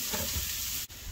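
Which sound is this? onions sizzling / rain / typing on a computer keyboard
onions sizzling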